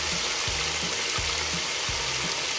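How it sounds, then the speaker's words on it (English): Corn with bell peppers frying in a pan, a loud continuous sizzle up close, with a few periodic stirring thumps roughly every half second. "Let's fry it"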